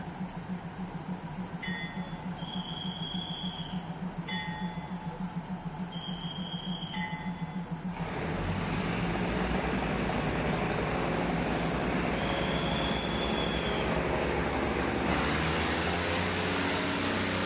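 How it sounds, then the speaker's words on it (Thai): A train idles at Thanon Chira Junction station in Nakhon Ratchasima, Thailand, then rumbles in motion, with steady low mechanical drone, a few high electronic chime tones, and louder broadband noise in the second half. "รถไฟจอดแป๊บเดียวนะคะ"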